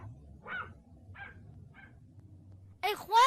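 A cartoon dog barks in a few short yips, followed by louder, higher barking and whimpering close up at the end, with no talking.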